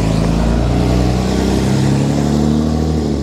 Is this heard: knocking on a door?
no